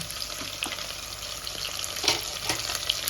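Split green chillies frying hard in hot oil for a mushroom masala pulao, a steady close crackling sizzle with sharper pops and spatters throughout.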